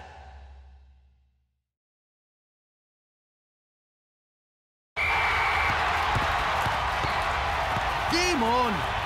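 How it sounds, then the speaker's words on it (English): Loud, dense home crowd at a cartoon soccer match roars continuously after a stretch of silence, with a whistle-like tone and swooping effects near the end; talking is heard briefly at the start. "If anyone can handle the noisy home crowd, it must be Nakama"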